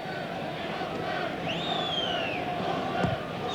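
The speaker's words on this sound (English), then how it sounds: "Fans again cheering Glory, Glory." Football fans cheer and chant in the stadium at the 2002-03 NSL Grand Final between Perth Glory and Sydney Olympic Sharks, a continuous distant roar with a whistle-like sweep rising above it.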